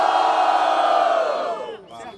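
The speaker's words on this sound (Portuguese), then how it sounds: "Barulho só pra quem achou que foi GB7, família" Crowd at a Brazilian rap battle, the Batalha do Coliseu, roaring and shouting in one loud sustained burst that fades toward the end, heard close and with no other sound over it.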